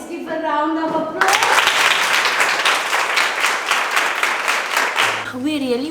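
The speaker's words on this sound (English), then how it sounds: "Let's give a round of applause." Audience applause at a children's choir event bursts in after a voice, dense even clapping sustained for several seconds before a voice returns at the end.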